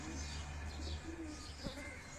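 Old Jounsare pigeons on a Karachi rooftop give soft, low cooing, faint and brief against a quiet background hum, with a light chirp mixed in.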